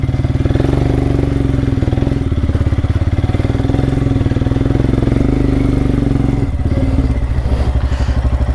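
An off-road enduro motorcycle engine riding a trail at Urumbikara gives a loud, close, rapidly pulsing throb with clattering thumps, holding a steady rhythm throughout.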